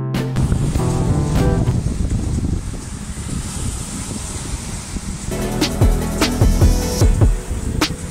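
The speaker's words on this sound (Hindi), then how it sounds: "बीच के अंदर आए हैं, आप लहरें देख सकते हैं" Sea waves wash onto Morjim Beach in North Goa in the evening, a loud steady surf rush blended with wind buffeting the microphone, with some clattering and brief tonal sounds from the beach surroundings.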